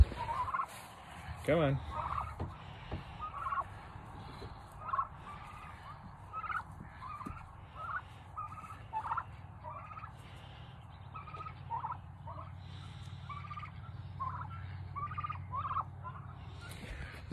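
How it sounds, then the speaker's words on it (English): Turkeys gobble in a steady series of nearby calls, with a brief spoken phrase early on over quiet background noise. "There's another turkey."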